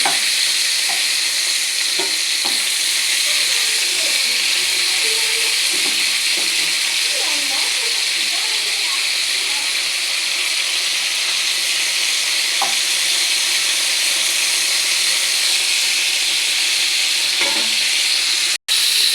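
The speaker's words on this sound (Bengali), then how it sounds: "পটলগুলোকে ভেজে রেখেছি, এরপর ভালো করে এগুলোকে ভেজে নেব" Pointed gourd (potol) frying in a pan gives a steady, loud sizzle with occasional stirring clinks, continuous throughout with faint background talk.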